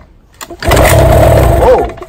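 A small 2-stroke outboard motor that had been submerged, pulled to start: a brief rattle of the pull, then the engine catches and roars loudly and steadily for over a second before cutting back.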